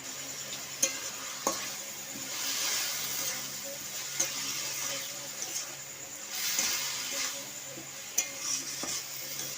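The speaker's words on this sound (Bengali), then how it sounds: "ভেজে রাখা আলুগুলো আমি দিয়ে দিয়ে ওটা দিয়ে ভালো করে কষে নেবো" Fried potatoes are stirred and sautéed in a pan for egg pulao, soft scraping strokes over a moderate sizzle, with a few sharp clinks of the spoon against the pan.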